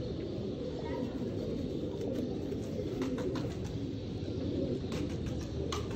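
Sialkoti pigeons at a breeder's loft in Gujrat coo softly and faintly beneath a constant wash of background noise, with someone talking nearby.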